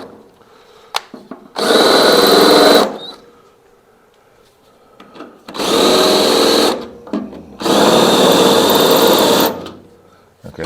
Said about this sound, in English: We're just taking our reverse drill, our cutoff drill, putting it in to clean the metal up